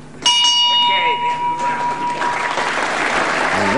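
A ringing bell ends the first round of a televised professional wrestling bout. It strikes sharply and loudly and then decays slowly, while crowd applause and cheering swell underneath it and carry on after it.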